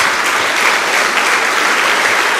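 Steady applause from a church congregation, dense and continuous throughout, filling the hall with no pauses.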